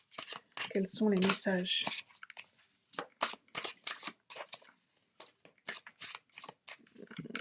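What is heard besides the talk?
tarot cards being shuffled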